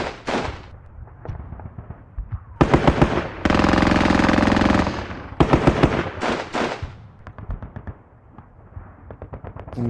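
Machine gun fire in the war video game Squad Battles Eagles Strike, with loud sustained bursts of rapid shots broken by pauses and scattered single reports, mixed with other battle noise.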